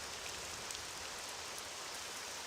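Steady rain falls in the open world of Morrowind, an even dense hiss of drops that holds constant without pause.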